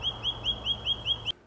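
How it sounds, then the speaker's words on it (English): A bird calls outdoors on a winter day, giving a quick, evenly spaced run of about seven bright chirps that cuts off abruptly, with a steady low hum beneath. "this bird seems to be happy"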